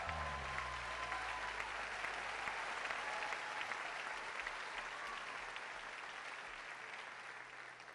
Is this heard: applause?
yes